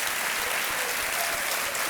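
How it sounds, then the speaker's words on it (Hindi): Studio audience of a Hindi TV quiz show applauding after a contestant's win, dense continuous clapping at an even, loud level throughout. "और ताली बजती रहनी चाहिए।"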